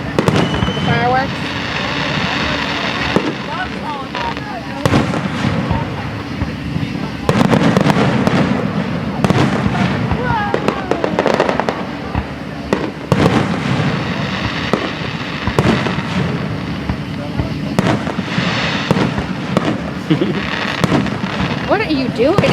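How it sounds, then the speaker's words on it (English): Fireworks crackle and burst repeatedly in quick irregular volleys, loud and close, with people talking and exclaiming throughout. "The fireworks."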